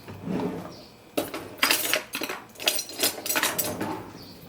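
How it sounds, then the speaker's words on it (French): A knife chopping an onion into small pieces on a board in a home kitchen, a run of close, sharp knocks and clicks in bursts, with pauses between, no talk over it. "Vous coupez votre oignon"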